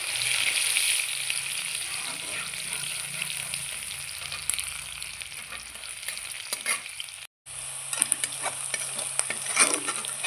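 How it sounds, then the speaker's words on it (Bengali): Chopped onions fry in a pan for a fish-head muri ghonto, sizzling steadily while a spoon stirs and scrapes them throughout, with a short break before the frying carries on. "পেঁয়াজগুলো তো লাল লাল ভাজা হয়ে গেছে"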